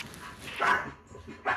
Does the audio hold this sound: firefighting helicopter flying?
no